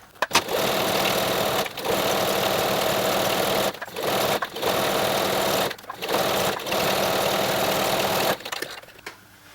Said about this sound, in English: So I'm just going to sew the entire length of this bias strip.